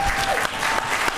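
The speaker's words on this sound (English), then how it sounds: "Let's give Pete a big round of applause" Audience applause for a presenter named Pete at an MNsure health-insurance talk: a dense, steady burst of many clapping hands filling the room, brief and even in loudness.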